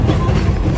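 Electric train rolling on rails across a Romanian plain, a steady loud rumble of wheels and carriage with continuous low clatter throughout, no voices.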